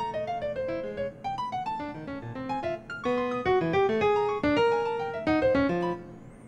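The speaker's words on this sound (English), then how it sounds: "there's Babbitt, three compositions for piano number one" A solo piano plays an excerpt from Babbitt's Three Compositions for Piano No. 1, with sparse, disjointed serial notes and chords jumping across registers, clear and close with sharp attacks and ringing decays.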